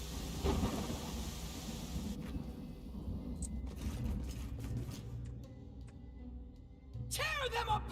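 Rolling thunder and steady rain from a thunderstorm in the video game Pathfinder: Kingmaker, a continuous low rumble with the downpour beneath. Game voices and effects cut in near the end.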